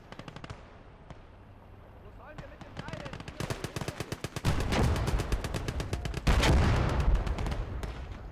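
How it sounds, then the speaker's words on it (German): Marder tank destroyer cannon and surrounding gunfire in the WWII strategy game Gates of Hell, with sharp rapid bursts of shots, then heavy booming blasts that swell into a loud continuous barrage. "Der Marder knallt auf jeden Fall ordentlich rein."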